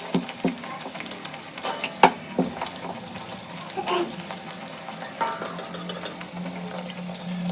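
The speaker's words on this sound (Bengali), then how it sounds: "এখানে আমি এখন লুচি ভাজছি" Luchi, puffed flatbread, frying in hot oil, with a steady low sizzle broken by scattered clinks and scrapes of a utensil against the pan, close by.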